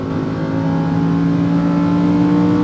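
A Lamborghini Huracán accelerating on a race track in Las Vegas, with a loud, sustained engine drone that holds a steady pitch and rises slightly, heard from inside the car with no talking.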